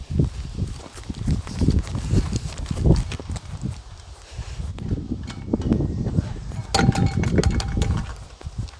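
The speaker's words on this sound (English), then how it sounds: "I love that horse." A horse walks close by, its hooves sounding in an irregular, uneven clip-clop on the ground, with light rustling and voices chatting in the background.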